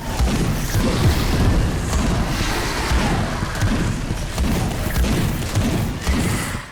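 Shotgun fire from the first-person game Space Hulk Deathwing, a dense, continuous barrage of booming blasts and crashing impacts that fills the whole stretch at steady loudness, with no talking.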